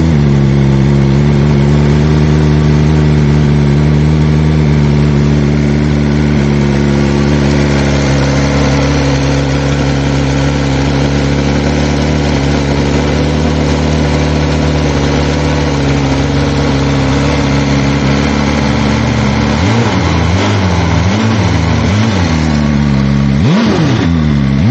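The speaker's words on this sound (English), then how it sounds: "So this is full titanium system from BMW." A BMW M 1000 RR sportbike fitted with a full titanium BMW exhaust system idles loud and close with a deep, steady burble, then snaps through several sharp throttle blips near the end.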